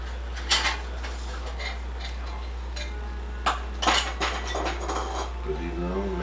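Canning jar lids handled while canning chicken, giving a few sharp metallic clinks and clatters scattered across the clip, close by, over a steady low hum, with brief voices at the end.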